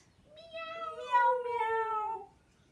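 A voice imitates a cat's meow during a children's yoga cat pose, giving one drawn-out, wavering mew with a rising then falling pitch, clear and close.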